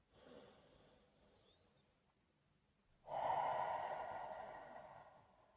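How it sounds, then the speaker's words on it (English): Someone taking a deep breath in during a guided meditation, a soft airy inhale after quieter breathing, close and faint. "Take in a deep breath."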